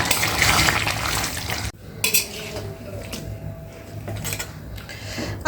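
Metal spoon scraping and clanking against a pot while duck meat curry is stirred, a run of busy scraping, a sharp pause, then lighter intermittent clinks and stirring close by.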